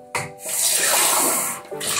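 Water runs from a tap into a container, a steady broadband rush that swells and holds for over a second before tapering off, preceded and followed by brief clatter.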